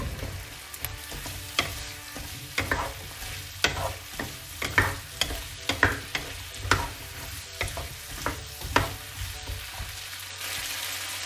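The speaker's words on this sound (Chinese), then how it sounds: "咱们放开黄油以后呢，咱们将土豆块、胡萝卜块和洋葱倒进去。" Potato, carrot and onion chunks stir-fried in melted butter, with repeated sharp scraping strokes of a spatula over a steady close sizzle, no talking.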